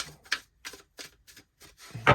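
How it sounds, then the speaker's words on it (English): A deck of tarot cards is shuffled by hand in quick, separate bursts of flicking and riffling, about seven short clusters with brief gaps, close and fairly soft. "we're going to do one more shuffle here."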